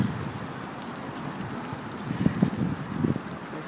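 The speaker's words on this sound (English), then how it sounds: "it's kind of windy out here" Wind blows across an outdoor backyard pool on a breezy day, a steady rumbling buffet on the microphone that swells in gusts near the end, with no voices.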